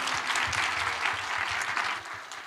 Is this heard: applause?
yes